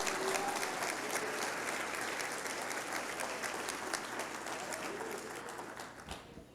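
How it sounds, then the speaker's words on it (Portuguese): A congregation at a prayer service applauds, a steady, broad roar of many hands clapping at once, sustained and fairly distant before tapering off near the end. "aplaude ao Senhor Jesus"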